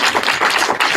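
Audience applause at a tech startup demo night, a dense, steady wash of many hands clapping at once that fills the whole moment without a break.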